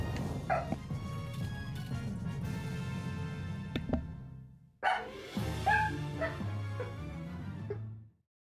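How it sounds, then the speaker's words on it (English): Dog in the video game Ghost N' Demons, giving a short series of barks and yips over steady game music, mid-level and fairly close, with the music fading out at the end. "My dog will bark"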